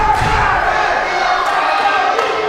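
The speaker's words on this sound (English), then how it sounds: "What a crowd. Listen to this." Roaring crowd cheering and shouting loudly at a wrestling event in a large arena, a dense continuous wall of voices.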